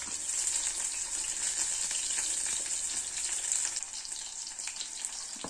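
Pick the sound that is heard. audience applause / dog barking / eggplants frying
eggplants frying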